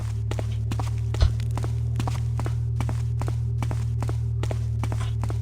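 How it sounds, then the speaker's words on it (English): Steady, evenly spaced footsteps in the stealth game Thief: Gold, walking over a constant low ambient hum, with one heavier thump partway through. "I heard another stray footstep."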